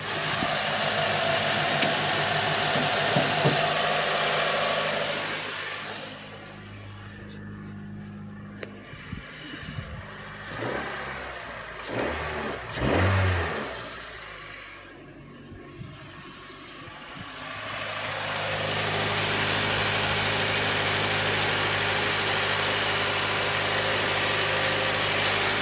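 2007 Honda Fit Sport engine idling with a worn AC idler pulley, a steady droning hum with a whirring whine from under the hood, fading down in the middle with a few clanks and thumps before the full idle drone returns.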